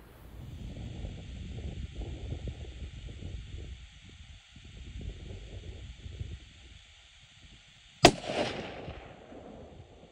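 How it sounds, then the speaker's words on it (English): A single sharp rifle shot cracks out near the end during a solo public-land hunt for a California blacktail buck, sudden and loud against steady wind and faint outdoor background noise. "I just shot a buck."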